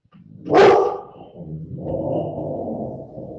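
A single loud dog bark rings out close by, followed by a lower, grumbling trailing vocalisation that fades out in a quiet room.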